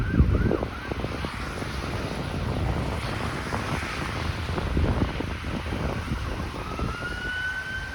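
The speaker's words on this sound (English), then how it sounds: "Yep, that's an ambulance responding." A distant ambulance siren wails faintly through heavy wind buffeting the microphone on a snowy day in Toronto, its rising tone clearer toward the end.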